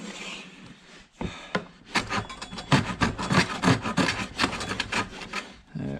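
Carter No.7 jointer plane drawn along a wooden board to level a hump in the middle, giving a series of close, loud rasping strokes in steady rhythm after a brief quieter start.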